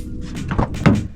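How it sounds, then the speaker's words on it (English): Car doors are opened in quick succession, with a couple of close latch clicks and dull thuds in about a second of sound and no talking. "So now we're gonna open up all the doors."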